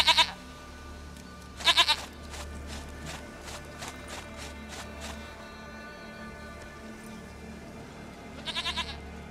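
Goat bleats from The Witcher 3 game world: a few short, bright bleating bursts at the start, another near two seconds and one at the end, set against a steady ambient bed with faint rhythmic tapping.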